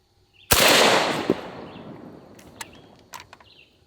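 An AK-47 fires a single 7.62x39 round at a bulletproof home-defense shield, one sharp, loud crack followed by a long decaying echo, then faint clicks and small handling noises.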